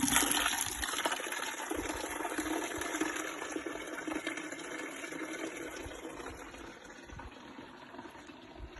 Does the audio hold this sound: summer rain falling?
no